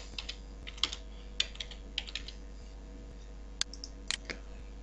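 Keys tapped on a computer keyboard while a password is entered on a blog setup page, heard as scattered quick clicks in short bursts with pauses between them. The clicks are close but quiet, and no one speaks.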